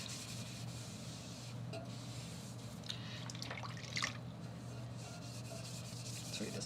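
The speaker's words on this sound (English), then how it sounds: "You take your sponge and you wipe the wheel head off." A sponge rubs and wipes clay off a pottery wheel head, a soft, steady scrubbing with faint wet drips and a brief louder swipe near the end, heard close over a constant low hum.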